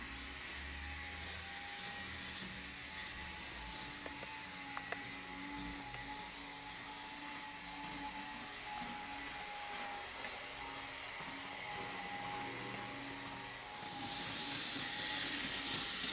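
Märklin model trains run on a layout with a steady electric motor whine and a thin sustained tone over a soft hiss. The sound is faint and continuous, swelling slightly near the end, with no voices.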